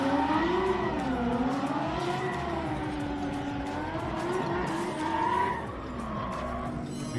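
Drift cars lapping a track at a South Australian state series round, with tyres squealing in long wavering whines over a constant engine roar, loud and sustained before easing slightly near the end.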